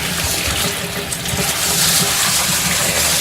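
Water gushes steadily through fluorite aquarium gravel being rinsed, a loud continuous rushing and splashing close by, with no one talking.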